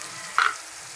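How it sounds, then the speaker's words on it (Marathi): Tomatoes and green chili frying together in a pan, a steady soft sizzle with one brief sharper crackle partway through, no talking. "आधी टमाटे टाकायचा, सगळं एकत्र टाका. मिरची भाजली जाते."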